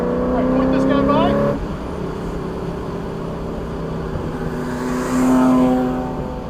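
A car on an open track session pulls hard under throttle, its engine note rising and droning steadily close up, with a second surge near the end as it accelerates again; people talk over the engine.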